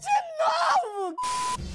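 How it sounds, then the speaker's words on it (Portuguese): Roaring calls of an Albertosaurus dinosaur in the survival game The Isle, loud and close: a rising, screaming bellow that slides down into a groan, then a sustained, steady tonal blast that cuts off sharply. "Vou dar um grito de despedida."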